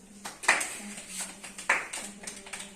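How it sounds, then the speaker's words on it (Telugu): A small group claps in a classroom after a times-table recitation, a few loose bursts of hand claps at close range over about three seconds. "Give a claps."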